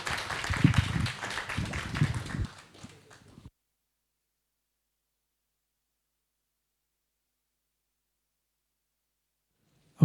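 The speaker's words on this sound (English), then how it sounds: "Then join me in applauding our panelists." An audience applauding panelists at a regional air transport conference, a burst of clapping lasting a few seconds that fades out into silence.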